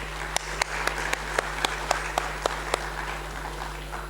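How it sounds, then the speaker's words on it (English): Audience applause welcoming a speaker onto the stage at a university event, heard as a soft, steady wash of clapping from a crowd with sharper individual claps standing out at regular intervals over a low hum. "let's welcome him with a huge round of applause"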